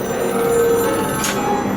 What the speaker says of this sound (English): Phone's ringing down here.